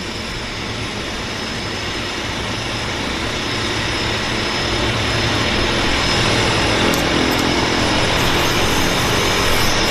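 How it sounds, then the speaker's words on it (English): A Harbour Air de Havilland Twin Otter floatplane at the Vancouver float base, its engines a loud, steady broadband roar that builds slightly over the span, heard alone without speech. "It is Harbour Air's newest twin otter."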